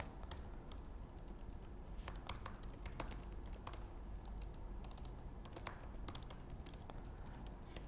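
Fingers tap steadily on a computer keyboard while sign-up details are entered, a close, quiet run of irregular clicks with no voices.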